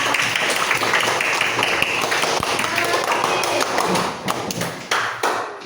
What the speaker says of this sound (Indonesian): Oke, tepuk tangan untuk harapan.